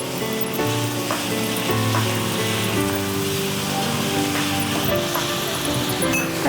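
Capsicum and spinach sautéing in a hot pan, giving a steady, dense sizzle that runs throughout. Tonal background music plays underneath.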